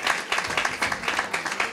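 Short burst of audience clapping at a live New Year's Eve show, quick and moderately loud with uneven rhythm across the crowd.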